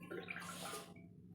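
Water is poured into a pot of tomato rasam in a brief, close splashing gush that lasts just under a second and then stops.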